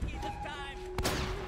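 Gunfire in the Uncharted video game: a sharp broadband shot bursts out near the one-second mark over a steady game soundtrack, standing out loud and close for a moment before the music carries on.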